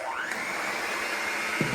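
An electric mixer runs through giant cookie dough with a steady, close whirring drone that holds level for the whole stretch, with a faint knock near the end and no voices.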